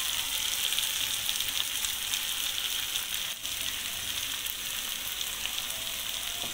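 Gooseberry pickle sizzling in a pan with spice powder, a steady, even frying hiss that runs without a break and with no voices.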